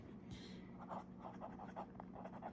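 A fountain pen with a Sailor medium nib, inked with Kobe 87 Hyogo Pansy, scratches softly across paper in short, repeated strokes, faint and close over a low steady background hum.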